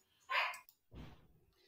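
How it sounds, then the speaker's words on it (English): A dog gives two quick barks, a sharp yelp followed by a lower bark, fairly faint and somewhat distant. "you might hear some dogs barking in the background"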